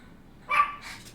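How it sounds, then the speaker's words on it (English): A dog gives a single short, fairly faint bark indoors, with a little quieter yelp just after it. "Why do you have to keep barking?"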